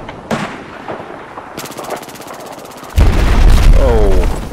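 Cruise missile strike in a video game: rapid gunfire crackles first, then a loud explosion lands at close range and rolls into a heavy, sustained rumble with debris noise.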